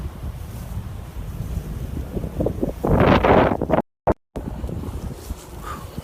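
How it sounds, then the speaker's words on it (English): Wind buffets the microphone outdoors near a steel heat-treating plant after a furnace explosion, a low rumbling roar with one strong gust near the middle and two brief dropouts of sound. "So it's windy out here"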